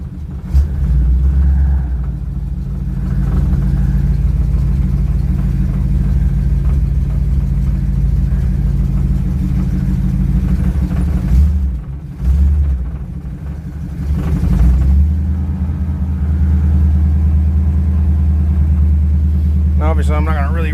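A 1957 Chevy 210 engine idles after a cold start with a loud, steady, low rumble that runs through the whole stretch, dipping briefly a couple of times before settling back to an even idle.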